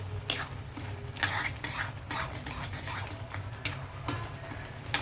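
Dal cooked with sesame oil cake being stirred in a pot: soft repeated scrapes and clinks of the spoon against the vessel over a faint low simmer, quiet and close.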